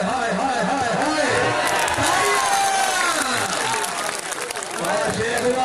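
An audience claps loudly and continuously over a dense, busy crowd roar, with voices and cheering mixed in.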